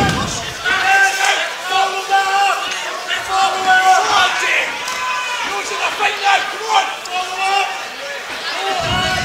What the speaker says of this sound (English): Certainly got the crowd going as well.